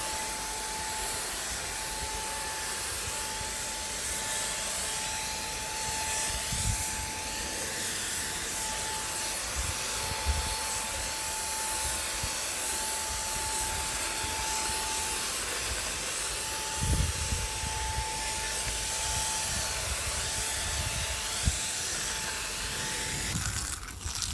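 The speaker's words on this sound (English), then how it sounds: "you can see the spray guns do a good job in painting" A Wagner paint spray gun hisses continuously for a long stretch while painting fence panels, joined by a steady thin whine and a few soft knocks.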